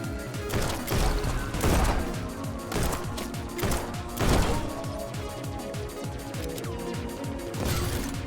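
Rapid gunfire crackles through the video game Neon White, with quick repeated shots, sharp impacts and a few louder bursts over a busy in-game soundscape.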